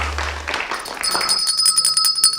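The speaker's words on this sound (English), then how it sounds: "That's right, ring your bell." A bell rings in a studio during a lunch-break talk show, producing bright, repeated high rings that follow a brief burst of noise.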